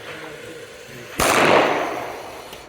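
A single sharp handgun shot cracks on command at an outdoor shooting range during a tactical moving-threat drill, a loud abrupt report followed by a broad, slowly fading echo after a quieter stretch of background.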